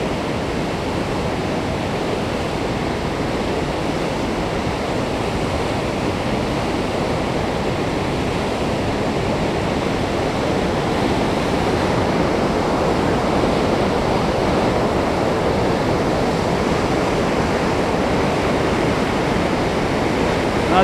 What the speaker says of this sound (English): that brown water is gushing through here.